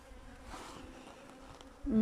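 Bees buzz around an opened hive with queen cells, a close, continuous droning hum with a low rumbling bump at the very end.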